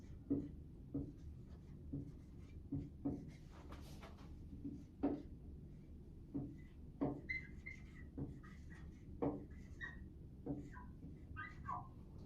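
Pen strokes scratch across paper as a formula is written out, in short repeated bursts with irregular pauses between them, quiet and close, with a few faint background sounds.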